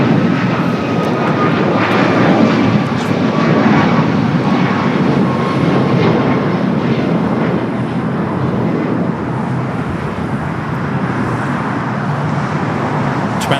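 An Air Canada Boeing 787 heavy departs runway 25 right at LAX, its jet engines a loud, sustained roar that swells and holds for the full stretch, with faint traffic noise underneath.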